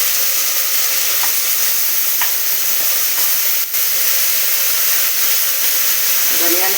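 Potatoes sizzle and fry steadily in a pan for a home-cooked curry, a loud, continuous crackle with occasional stirring clinks close by.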